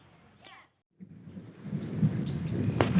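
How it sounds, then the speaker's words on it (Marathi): Strong wind gusting over farmland ahead of an unseasonal rainstorm: a short muffled sound, a brief silence, then a low, rough rumbling roar that builds and stays loud. "वारा पण जोरात सुटलेला आहे"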